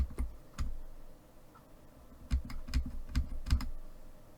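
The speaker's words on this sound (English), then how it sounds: "I'm going to move it 5 steps to the left using the arrow key on my keyboard" Several sharp key taps on a computer keyboard as arrow keys are pressed to nudge an element in a digital cardmaking design program, a scattered pair of clicks followed by a quicker run of four close taps.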